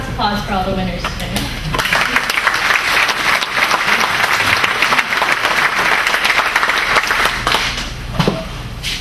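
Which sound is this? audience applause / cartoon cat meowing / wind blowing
audience applause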